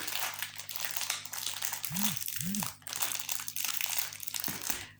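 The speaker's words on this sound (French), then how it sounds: "Pardon pour le bruit du plastique." Plastic wrapping on diamond painting canvases crinkles and rustles loudly and continuously up close, with a low hum underneath and a couple of short tonal blips partway through.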